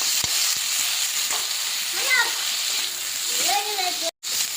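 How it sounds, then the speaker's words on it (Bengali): Shrimp sizzle and spatter in a hot pan for a Bengali shrimp-and-lentil dal, a steady close frying hiss with a few sharp clinks and a brief voice-like sound near the end. "চিংড়ি মাছটা ভাজা হয়ে গেছে,"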